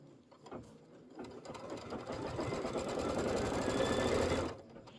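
A Kimberbell embroidery machine sews a table runner, its rapid mechanical stitching rising steadily in loudness and running alone for several seconds before stopping abruptly.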